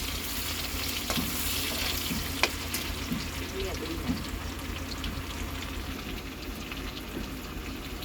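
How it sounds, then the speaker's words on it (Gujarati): Garlic frying in oil as tempering for peanuts, a steady close sizzle with a few clinks and stirring knocks over a low background hum. "પેલા લસણ શેકી નાખવાનું"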